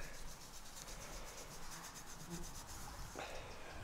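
A freshly dug-up coin being rubbed clean outdoors while metal detecting, giving a continuous close, faint scratchy friction sound with a brief higher squeak near the end.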